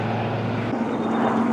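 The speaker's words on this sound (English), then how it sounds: "I hear a helicopter over there now." A helicopter or light aircraft drones steadily overhead near a seaplane base in Prince Rupert, a continuous low engine hum with a faint rotor-like throb, moderately distant and sustained throughout.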